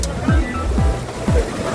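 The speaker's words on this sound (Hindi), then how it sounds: "ये देखिए पानी इस तरह आ रहा है जैसे बारिश आ रही है।" Water pours steadily down Umbrella Waterfall near Havelian, falling like heavy rain in a loud, close, continuous rush with a few low thuds.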